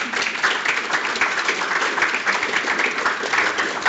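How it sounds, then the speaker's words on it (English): A steady burst of audience applause at an inclusive hiring panel event, with dense clapping from many hands and no voices on top. "giving a round of applause to our brilliant panel"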